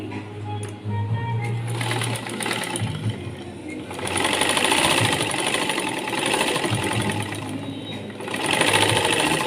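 Sewing machine stitching a blouse lining from the top side, running continuously and close by with a dense, buzzing mechanical hum whose speed and loudness rise slightly in surges.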